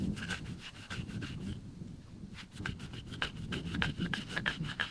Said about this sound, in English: And the last option is a normal scrubbing brush.